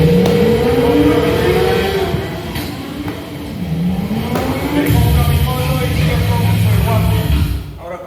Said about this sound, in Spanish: Ahora con mi motito voy a volver a la casa